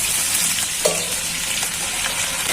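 Frying onions sizzle loudly and continuously while a little broth is poured in, with a brief splash and faint stirring, no talk.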